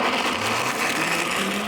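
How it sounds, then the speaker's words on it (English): Kitchen blender running on a soup base with nutritional yeast flakes, a steady loud whirring motor drone that holds without a break for the whole stretch, close by, with no talk over it. "Put the blender on and give it a whirl around."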